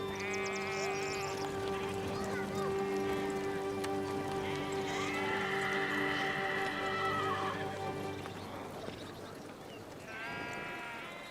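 A horse neighs loudly several times, close by, with hooves clip-clopping underneath and a steady background hum, no talk.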